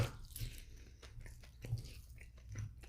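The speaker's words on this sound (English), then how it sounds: "As I keep chewing on it." Quiet, close chewing of fried chicken, with soft wet squishes and faint crunches in an irregular rhythm and no talking.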